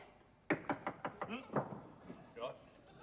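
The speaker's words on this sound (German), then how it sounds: "Ja, klopft doch." Knocking on a door in a stage comedy set, a quick series of about six sharp raps followed by a softer pair, fairly near and alone without talk.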